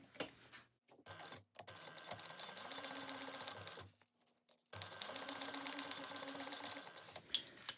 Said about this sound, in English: we're going to sew this together at a 1/2 inch seam allowance